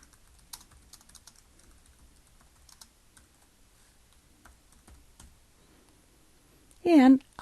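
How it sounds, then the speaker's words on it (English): Faint, sparse clicks of a computer keyboard as text is typed, quiet and intermittent, ending with a short loud voice at the very end. "I can type anything I want"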